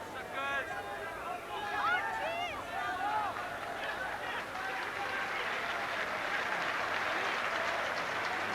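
Crowd applause at a football match between Wales and Brazil, a steady wash of distant clapping and murmur from the stands, with a commentator talking over it and a brief swell near the start.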